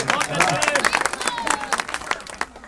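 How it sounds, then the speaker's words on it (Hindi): Audience clapping at a comedic Hindi poetry recital in Hathras, a brief burst of scattered applause close by with voices mixed in. "एक बार इनके नाम पर भी तालियां बजाइए"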